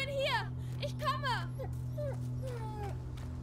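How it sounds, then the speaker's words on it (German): Leon, a wounded dog in the video game A Plague Tale: Innocence, gives a run of high, rising whimpers and yelps over a steady low background hum. "Er bellt noch."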